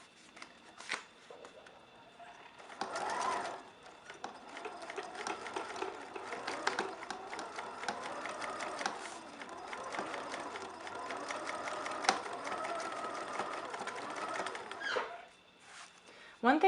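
Domestic sewing machine stitching fabric for a reverse appliqué T-shirt, a steady, moderately loud mechanical whir running about twelve seconds with brief stops at the start and end.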